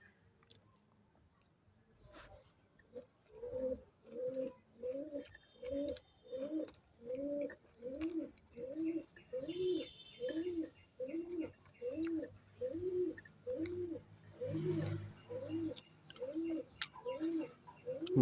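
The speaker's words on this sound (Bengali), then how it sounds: "সেই কবুতর যদি ডাকতেছে এখান থেকে" A pigeon coos in a slow, regular series of soft repeated calls, close by, over a quiet background.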